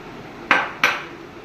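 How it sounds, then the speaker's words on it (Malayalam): Two sharp clinks of a utensil striking a clay pot in quick succession as coconut goes in, then quiet. "ചട്ടിയിലോട്ട് ഇടുവാണ്, തേങ്ങ ചട്ടിയിലോട്ട് ഇടുവാണ്"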